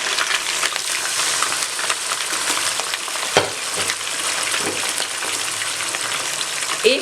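Chicken pieces frying in oil for gobi chicken, a dense, steady sizzle and hiss with occasional soft knocks of stirring, close up and without talk.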